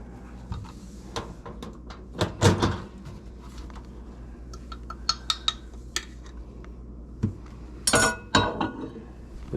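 Several light glassy clinks and knocks spread across a quiet room, with a louder cluster of clattering near the end as a glass is placed into a microwave oven.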